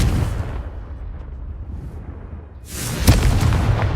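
A Confringo spell explosion in Hogwarts Legacy, a single deep boom with a sharp crack that rises near the end after a quieter rumbling stretch.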